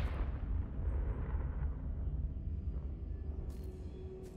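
Confringo blasting spell going off in Hogwarts Legacy, a loud low rumbling explosion that swells at the start and slowly decays over several seconds, with faint crackles near the end.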